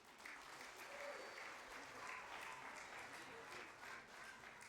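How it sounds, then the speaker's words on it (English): An audience at a junior high spring concert gives the combined band a sustained round of applause, dense steady clapping filling the room, fairly faint and distant, with a few voices beneath. "So can y'all give them one more round of applause before we play our last piece?"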